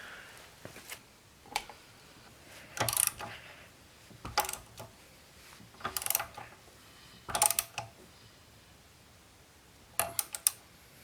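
Ratchet clicks from hand-turning the crankshaft of a Honda B20 non-VTEC engine during valve clearance adjustment, heard as several close, short bursts of rapid clicking separated by pauses, with no talking.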